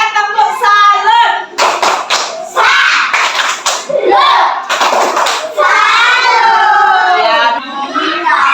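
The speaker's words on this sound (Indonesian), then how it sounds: "Kasih dia tepuk salut." A group of children claps a rhythmic salute cheer in a classroom, bursts of clapping mixed with kids chanting and calling out loudly.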